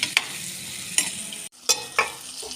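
Potatoes roasting in spices in a pan give a low sizzle broken by several sharp spoon scrapes and stirring clatters, with one brief silent gap and no talking.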